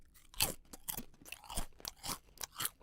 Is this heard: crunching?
yes